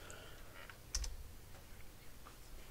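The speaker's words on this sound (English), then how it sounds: "I will type in the IP address of that server and port 8011." Someone types an IP address on a computer keyboard: a short cluster of soft, quiet key clicks, with a few fainter taps on either side.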